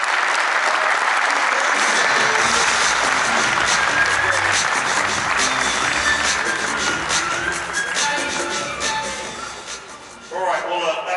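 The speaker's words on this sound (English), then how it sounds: "Please, a warm round of applause for Tony and Garrett." At a Qlik World 2023 partner general session, a conference audience gives Tony and Garrett a loud round of applause as they leave the stage, fading near the end as a voice begins speaking.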